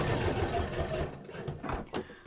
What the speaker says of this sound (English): And I'll just do a couple of stitches and that'll do me.